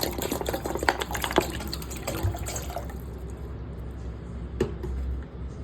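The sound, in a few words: pouring 1 liter of water for tom yum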